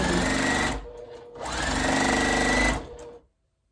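A sewing machine stitches quilt strips in two loud, close, steady runs of rapid buzzing, each lasting about a second or more, separated by a short pause and ending in silence.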